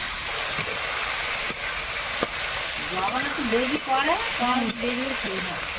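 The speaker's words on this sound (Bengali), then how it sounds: "অনেকটা ভেজেছি চিংড়ি ছোটো বড় একসঙ্গে ভেজে নিয়ে বেছে নিতে হবে" River prawns frying in hot oil, a continuous loud sizzle with stirring scrapes, while a voice briefly speaks over the cooking noise.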